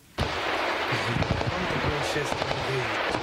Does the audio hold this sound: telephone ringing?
no